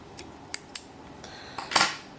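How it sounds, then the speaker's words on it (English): Scissors snip marabou feathers on a fly-tying hook, giving a few short, crisp metallic clicks spaced apart, followed by a slightly louder cluster of snips near the end in a quiet room. "And then you can trim your remaining marabou."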